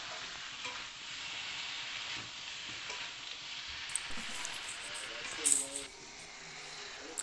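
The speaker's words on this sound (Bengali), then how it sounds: "সবজিগুলো দিয়ে এবার নাড়বে" Vegetables sizzle in a frying pan with a low, steady hiss, with occasional scrapes and clatter as they are stirred, while faint voices murmur in the background.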